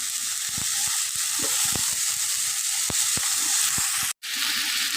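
Cumin seeds and bay leaves with spices frying in hot oil, a loud steady sizzle with sharp crackling pops and spatters throughout, briefly cut off near the end.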